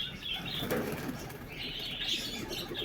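Racing pigeons in a loft beat their wings in a brisk flurry of flapping. A soft cooing and faint chirps are heard nearby, with no talk.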